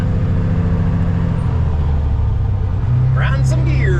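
Inside the cab of an old Kenworth K100E truck under way, a loud, steady low engine drone and road rumble fill the space, and the engine pitch shifts slightly partway through.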